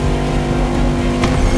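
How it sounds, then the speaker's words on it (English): Bugatti engine revving loudly in The Crew Motorfest, a sustained close roar with a steady drone and a brief sharper burst near the end, no voices. "A car that is undoubtedly a worthy successor to Jean Bugatti's personal masterpiece."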